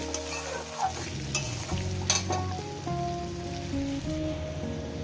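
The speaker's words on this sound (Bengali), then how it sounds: "আমি আদা বাটা দিলাম এটাকে দিয়ে একটু কষিয়ে নিই" Ginger paste being sautéed with small river fish and vegetables in a pan, with continuous close sizzling and frying crackle under steady stirring, and a low hum running throughout.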